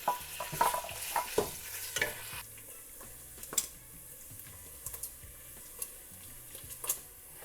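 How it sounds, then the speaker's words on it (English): Chopped pork sizzles in hot oil while a utensil repeatedly scrapes and clacks against the pan, busy stirring at first and then settling into steady frying. "We're going to stir fry this until it's nice and crispy."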